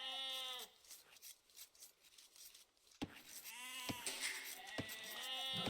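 Sheep in the strategy game Age of Empires 2, several clear bleats heard close up, one at the start and more after a brief quiet gap, with no talking.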